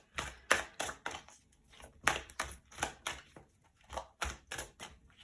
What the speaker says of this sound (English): Now this oracle card has even reverse meanings. That's why I'm shuffling it like this.